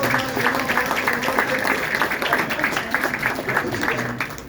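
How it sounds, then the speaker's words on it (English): A crowd at the dedication of a transportation center in Claymont, Delaware gives a sustained round of applause, with a speaker's amplified voice continuing over the even clapping throughout. "Let's give them another round of applause."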